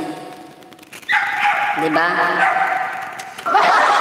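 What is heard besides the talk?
dog barking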